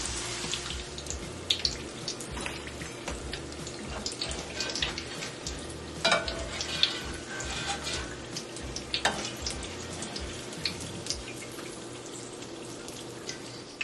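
Wontons frying in hot oil, a steady close bubbling sizzle with crackling pops throughout and a few louder spits, no voices.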